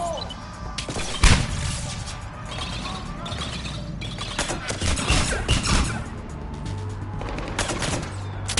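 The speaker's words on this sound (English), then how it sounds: "Fire in the hole!" Grenade blast and gunfire in the Mass Effect 3 Legendary Edition combat, with a sharp loud burst near the start over continuous mechanical clatter and further bursts of shots, and some voices speaking in the mix.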